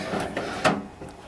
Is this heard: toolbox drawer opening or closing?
yes